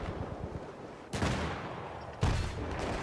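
Sniper rounds crack close by in Battlefield 2 on the Strike at Karkand map, two sharp, loud snaps about a second apart over a constant rumbling battle background, no talking.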